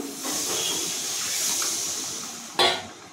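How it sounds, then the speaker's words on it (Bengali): Water used to rinse spices goes into frying masala in a pan, first a steady hiss, then a sudden loud burst of sizzling steam that quickly fades, heard up close without talk. "এবার আমি দিয়ে দিচ্ছি মশলা ধোয়া জল"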